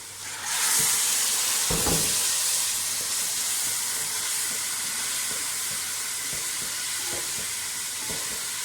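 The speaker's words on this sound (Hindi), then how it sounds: "अब इसमें मैं थोड़ी सी यखनी इसमें डाल देता हूँ" Hot yakhni stock poured into beef nali pulao masala in a pot: a sudden loud hissing sizzle that settles into a steady steaming hiss, with a few soft knocks of a spoon, close up and alone.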